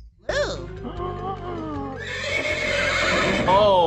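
A cartoon horse neighs loudly in the Freddi Fish 4: Hogfish Rustlers video game. A shaky, rising and falling whinny is followed by clip-clopping hooves and busier background sound that keeps building.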